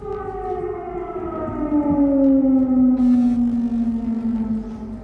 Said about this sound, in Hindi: रूसी मिसाइल हमले के बायस कई शहरों में सुबह से ही खतरे के सायरन बजना शुरू हो गए थे।